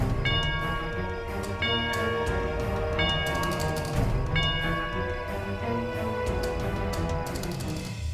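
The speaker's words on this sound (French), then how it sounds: "on dirait bien que c'est la cloche de la justice" The bell of justice rings out in a French-dubbed drama series: repeated metallic clangs strike at a steady pace, dense with overtones and ringing on continuously, loud and close throughout.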